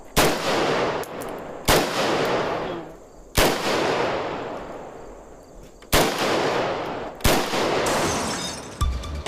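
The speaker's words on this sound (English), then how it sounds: "General Kalashnikov autographed this piece, so this is quite a rare piece, and when we shoot it" Single loud shots from a Kalashnikov assault rifle boom out one at a time, each sharp crack followed by a long rolling echo that fades over a second or two, spaced irregularly with no talking.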